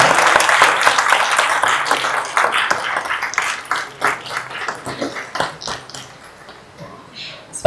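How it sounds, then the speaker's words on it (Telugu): Loud applause from a seated crowd at a 75th birthday celebration on stage, dense continuous clapping that gradually thins into scattered claps with some voices underneath. "కొంచెం గట్టిగా చప్పట్లు కొట్టి ఆశీర్వదించారు"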